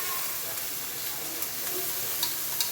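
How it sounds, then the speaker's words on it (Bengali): Mixed mung, masoor and khesari lentils fry in a pan with a steady soft hiss and crackle, broken by a few faint scraping ticks. "ডালটাকে একটু আগে কষিয়ে নেই"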